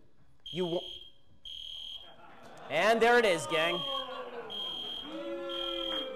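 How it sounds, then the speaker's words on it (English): A building fire alarm, pulled by a protester, sounds in repeated high-pitched electronic beeps with short gaps, while someone talks loudly over it in the middle. "a protester in the building pulled the fire alarm in order to stop the speech"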